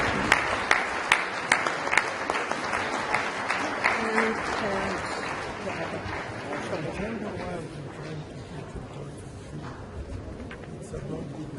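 A conference audience in Nigeria claps, with distinct sharp hand claps near the start blending into a broader round of applause that thins out as a voice talks over it.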